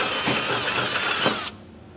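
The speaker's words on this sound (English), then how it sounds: "we're actually going to drill those from the top down" A power drill bores from the top down through the double-layer metal of a 2023 Ford F-250 truck bed, stepping holes up to 11/16 inch for a B&W Companion sliding fifth wheel hitch. The steady close whine cuts off abruptly after about one and a half seconds.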